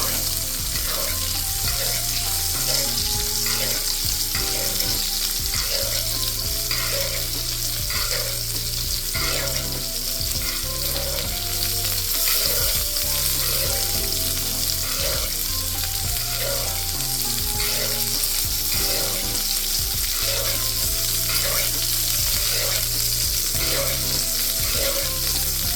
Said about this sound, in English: we're going to spoon some of that nice butter sauce again. Garlic, rosemary, and thyme